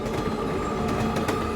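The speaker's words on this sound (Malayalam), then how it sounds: "ട്രെയിൻ നിന്നില്ല, പാഞ്ഞു പോയിക്കൊണ്ടിരിക്കുകയാണ്" Cartoon runaway train speeding along without a driver, a steady dense rumble of rolling rail noise with faint clatter, continuous and fairly close.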